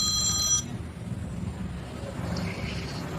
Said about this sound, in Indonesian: Baik, sepertinya sudah ada telepon masuk.